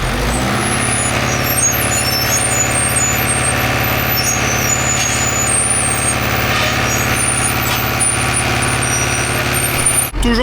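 A grain truck with air brakes stands at a wheat harvest field, its diesel engine idling in a loud, steady drone throughout, with a sharp burst of noise right at the end.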